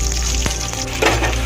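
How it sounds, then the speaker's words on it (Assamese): Garlic and onion fry in hot oil, a loud close sizzle that runs without a break, with a light scrape of stirring near the end. "নহৰু আৰু পিঁয়াজখিনি দিয়াৰ পিছত ভালদৰে লৰাই ল'ম"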